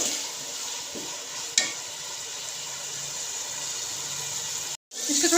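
Chopped green chillies frying in a pan for a potato and moong vadi dish, a soft continuous sizzle with a sharp clink near the start and a brief dropout near the end.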